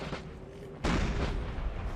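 Artillery fire in the Napoleonic Total War 3 game during a Schöngrabern battle with Bavarian, Saxon and Austrian troops: a low rumbling background gives way to a sudden heavy boom, followed by sustained loud rolling rumble.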